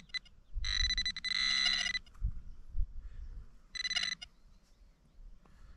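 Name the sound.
metal detector pinpointer beeping on a signal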